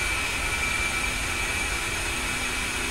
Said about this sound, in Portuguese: Olha o motor funcionando ali, ó.